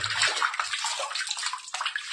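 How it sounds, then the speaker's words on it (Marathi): Water in a rock water cave at Saptashrungi fort splashes and sloshes in a close, echoing rush, steady with brief surges and no speech. "पाणी पाहून घ्या खूप खूप पाणी"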